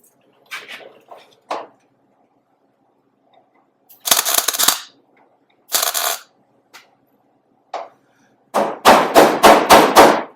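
Sharp hammer blows on sheet metal while shaping a welded Nash headlight housing: a few scattered taps, two short clanging bursts, then a rapid run of five or six loud strikes near the end.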